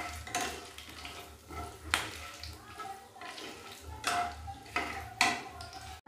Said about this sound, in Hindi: यहाँ डाल रहे चक्रफूल, काली मिर्ची, लौंग और खड़े मसालों को अच्छे से सेक लेंगे